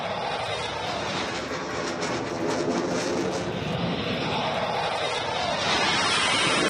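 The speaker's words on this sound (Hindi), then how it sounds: "गंगा एक्सप्रेसवे पर गरजे इंडियन एयरफोर्स के लड़ाकू विमान।" Indian Air Force fighter jets, including Rafale and Jaguar, roar over the Ganga Expressway during an airshow touchdown, a loud sustained engine rumble and whoosh that swells slightly toward the end.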